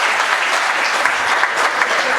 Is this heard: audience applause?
yes